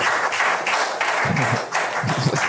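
Audience at a live comedy festival show applauding a comedian, a dense wash of clapping and cheering that swells in bursts across the whole stretch, fairly loud, with no voices over it.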